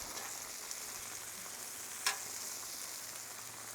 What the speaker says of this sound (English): Look at that butter cooking down.